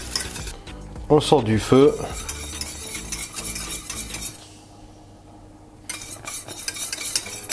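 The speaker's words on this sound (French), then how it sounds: "Et c'est reparti pour une cuisson douce sans cesser de remuer." A mixture being stirred while cooking gently in a Moulinex Companion food processor, with scraping, clinking stir sounds and a soft sizzle that drop away partway through before resuming; a voice briefly speaks.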